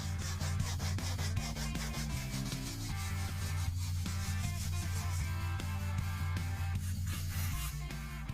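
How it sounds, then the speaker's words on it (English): Cured body filler is sanded on a panel of a classic Chevelle, a continuous rhythmic rubbing scrape heard up close, layered over a steady low droning tone throughout. "then sand down that layer"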